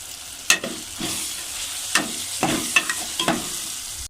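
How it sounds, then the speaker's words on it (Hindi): Tomatoes, garlic paste and spices frying in a pan for a chicken karela dish, heard as a steady sizzle. Several sharp stirring scrapes cut through it, with no talking. "लहसुन के पेस्ट के अंदर मैंने टमाटर ऐड कर दिए और इनको अच्छे से भून लेंगे"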